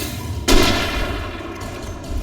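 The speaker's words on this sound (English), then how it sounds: "And I used all my flare gun ammo." A single muffled firing burst from a flare gun in the game Alan Wake, an abrupt onset that decays into a bright, hissing wash over constant background game ambience.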